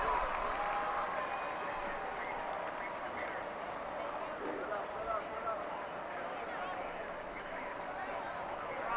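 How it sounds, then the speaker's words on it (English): Fans in a high school football stadium crowd applaud seniors during a homecoming ceremony, a steady wash of distant clapping and cheering blended with crowd noise throughout. "Fans, let's give these MacArthur High School seniors a well-deserved round of applause."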